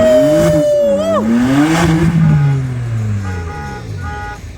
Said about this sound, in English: we have the BMW M3. Look at that burnout.